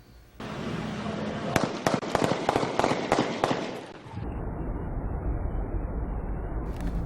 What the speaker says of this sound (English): A neighbor recorded the gunshots on his cell phone.